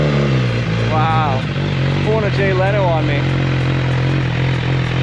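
A 2023 MV Agusta Brutale motorcycle engine idles loud and close, with a few sharp revs rising and falling, while people talk over it.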